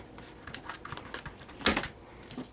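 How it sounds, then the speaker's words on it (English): Scissors cutting open the plastic package of a compass, a series of short crisp snips and rustles close by, quiet, with no talk. "cut the package open with scissors"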